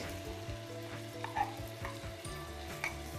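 Onion and garlic sizzle quietly in a Silit pressure cooker, a soft steady frying hiss with a couple of light stirring clinks over a low electrical hum.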